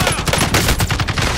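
Rapid automatic gunfire in Warzone hammers out in a fast, tight string of loud close shots over a short burst, with no talk over it.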